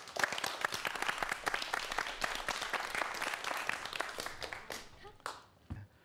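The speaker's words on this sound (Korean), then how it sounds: "여러분 박수 부탁드리겠습니다." An audience at a lecture on virtual reality applauds, with crisp, fairly close individual claps forming a brisk burst that thins out and dies away toward the end.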